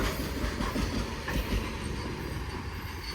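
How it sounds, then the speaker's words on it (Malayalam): Freight train hauled by twin WDG4 diesel locomotives from the Hubli shed rolls past a trackside spot near Majorda Junction, with a steady, loud rumble and rattling wagons and rhythmic clickety-clack of wheels throughout. "ഇവിടെ നിന്ന് നമ്മളിപ്പോൾ വന്നേ പിന്നെ ആദ്യത്തെ ലോഡാണ് ഇപ്പോൾ അങ്ങോട്ട് പോകുന്നത്."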